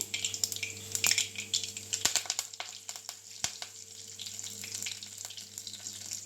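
Mustard seeds and curry leaves frying in hot oil for a drumstick kootu give off a steady, close crackling sizzle. Sharp pops and spits are scattered through it, and a low hum runs underneath.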